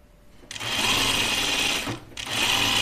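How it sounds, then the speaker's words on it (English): A sewing machine stitches a quarter-inch French seam on a Colette Myrna dress, running in a steady loud whir for about a second and a half, pausing briefly, then starting again. "All right, so I'm sewing 1/4 inch,"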